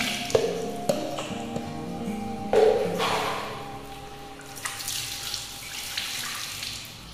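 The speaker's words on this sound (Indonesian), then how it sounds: "Lalu kalian tinggal bilas lagi" Running tap water rinsing a HEPA filter from a Gaabor 2-in-1 vacuum cleaner, a steady splashing flow with brief louder gushes as the filter is moved under the stream, no talk.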